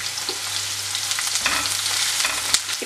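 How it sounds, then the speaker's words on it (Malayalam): Chopped onion frying in hot oil in a pan for a jackfruit seed stir fry, a steady close sizzle with scraping spatula strokes and a sharp knock near the end. "അത് ഇതിനകത്തേക്ക് ഇട്ടൊന്ന് മൂപ്പിച്ചെടുത്തിട്ട് മസാലപ്പൊടികൾ ചേർത്ത് കൊടുത്താൽ മതി"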